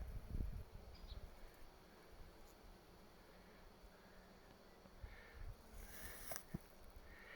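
Bees swarm a flowering yellow dereza shrub on sandy ground, a faint, steady outdoor hum with occasional closer buzzing passes.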